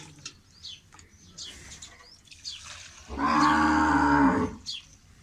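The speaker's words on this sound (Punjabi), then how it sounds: "ਵੱਛੀ ਗਾਂ ਹਮੇਸ਼ਾ ਬਾਅਦ ਚ ਦੁੱਧ ਲੰਦੀ ਹੁੰਦੀ ਹੈ ਤਾਰਕ ਭਾਈ।" A cow on a farm in Pakistan lets out one long, loud moo in the middle, set against quieter farmyard background with faint bird chirps.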